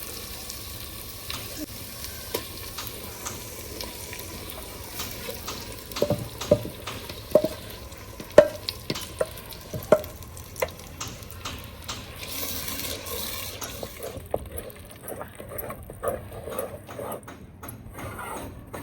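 Tomatoes and onions sizzle and crackle steadily in a hot pan, with occasional scrapes and clinks of stirring over a continuous frying hiss.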